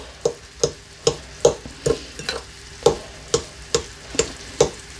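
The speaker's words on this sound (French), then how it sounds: "on va laisser nos petits oignons caraméliser tranquillement pendant 5 bonnes" Onions caramelizing with honey in a pan, stirred with a utensil that makes a steady run of sharp, close taps and scrapes about twice per second, with a soft low sizzle underneath.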